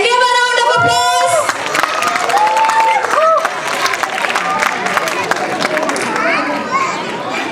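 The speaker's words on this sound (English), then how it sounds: "Can we have a round of applause?" A crowd at a school academy event claps and cheers loudly with children's voices mixed in, after a brief burst of music at the start.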